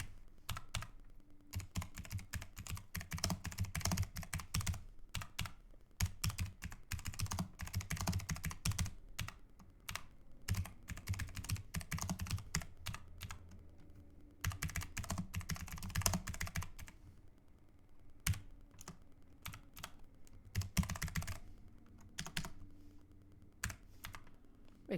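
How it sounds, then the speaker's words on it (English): A computer keyboard clatters in quick, uneven bursts of typing with brief pauses between them. The keys sound close but quiet, and nobody speaks. "You're gonna hear me typing for a bit."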